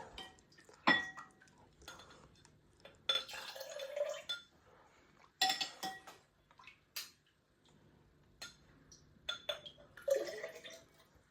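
Kannaari juice being poured into a cup: intermittent splashes and trickles of liquid with light clinks against the cup, spread over several bursts at close range and fairly quiet, with no talking.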